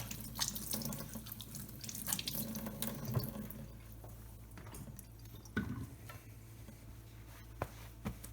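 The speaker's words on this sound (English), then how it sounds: "I'm gonna wash my hands real quick" A kitchen tap runs steadily while hands are washed during cooking, a continuous close splashing hiss with a few brief knocks and drips.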